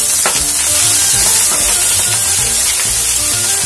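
Rice fries loudly in hot oil with egg in a pan for arroz chaufa, a dense close sizzle and hiss overlaid by repeated scraping strokes of a utensil stirring it.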